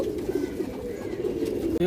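Indian high flyer pigeons coo in a breeding loft with eggs and chicks, a low steady cooing close by that runs through the short stretch without pause.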